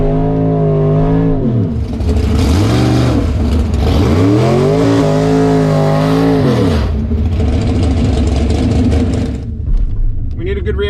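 A big-tire 1969 Camaro drag car accelerates hard off the line at a drag race, its engine roaring loud and close with rising, sweeping revs across several gear pulls before cutting off near the end, with speech faintly mixed in.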